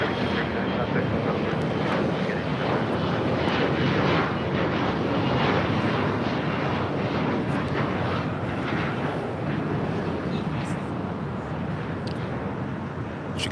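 On a runway at LAX, airliner engines hold a dense, continuous roar that stays loud and even, easing very slightly toward the end.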